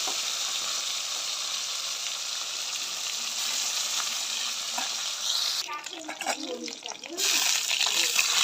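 Rohu fish pieces rubbed with salt and turmeric frying in oil, a steady sizzle joined by louder stirring and scraping bursts near the end, close and without talking.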